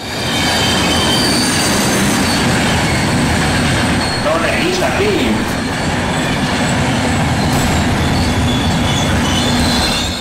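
A train rolling past in the zombie game Left 4 Dead 2, a loud continuous rumble with squealing wheels and rhythmic clatter throughout, close and dominant, with a few faint voices underneath.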